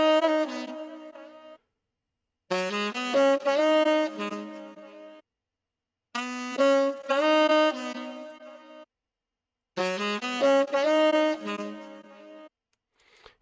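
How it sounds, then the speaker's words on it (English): A dry saxophone loop with no effects repeats a bright, somewhat harsh melodic phrase four times, each sustained run of notes followed by a short pause, close and solo with no talking. "Then I got this saxophone loop without effects."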